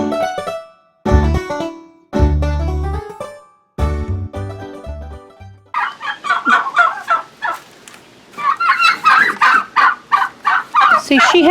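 Agitated turkeys at a homestead gobble in loud, rapid bursts up close, first several long harmonic calls, then a dense stretch of overlapping squawks and clucks from the flock.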